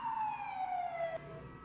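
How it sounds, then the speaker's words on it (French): A police siren wails in the distance, its single tone sliding slowly downward and then cutting off, faint over a low steady background rumble. "Vous entendez Joshua, Gabriel et Needle, les sirènes de police au loin"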